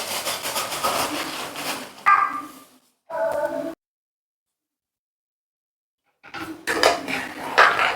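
Pineapple jam with sugar is stirred in a pan over medium flame, with close scraping and clinking of a spoon against the pan in short bursts separated by a few seconds of silence.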